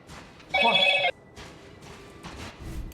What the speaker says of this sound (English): Somebody's phone rang.